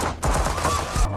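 A brief burst of gunfire from a shootout inside a bar in a film: loud, close shots that crack together into a rapid volley and stay dense for about a second.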